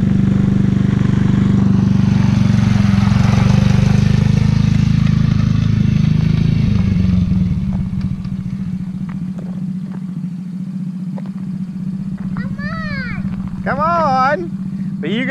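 A four-wheeler quad bike engine drones steadily nearby, loud at first and then easing to a lower hum, while a child and an adult talk over it.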